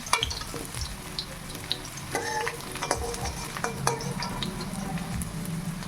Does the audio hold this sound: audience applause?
no